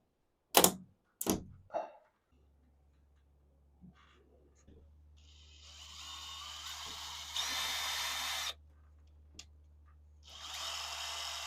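A power drill bores into wood on a greenhouse roof support, starting after a few sharp knocks and then whirring in two steady bursts with a short pause between, moderately close and quiet overall.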